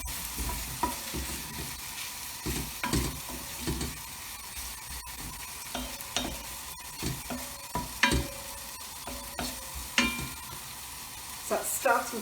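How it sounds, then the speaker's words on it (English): Chopped peppers sizzle and crackle steadily in a frying pan, with irregular clatters and scrapes as the food is stirred in the pan. The sound is close and moderately loud. "Can you hear that sizzling now?"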